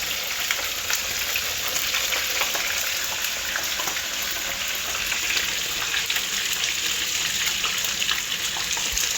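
Seasoned fish sizzling in a frying pan, a steady, loud, crackling hiss with fine popping spatters throughout and no talk.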